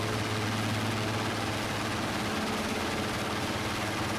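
Steady, loud drone of the Dornier Do J Wal flying boat's engines at 1600 RPM climb power in Microsoft Flight Simulator, a constant low hum with no voices.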